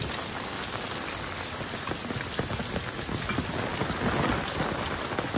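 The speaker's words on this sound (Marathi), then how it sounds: "आमच्याकडे पाऊस एवढा खतरनाक पडतोय" Heavy monsoon rain pours down continuously over flooded village rice fields, a dense, even hiss of drops pattering on surfaces nearby.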